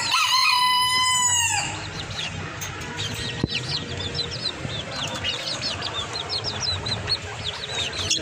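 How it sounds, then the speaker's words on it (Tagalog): A rooster crows loudly at the start, then chickens cluck and chirp continuously in the background with scattered higher bird calls. "Nakamaliit na manok"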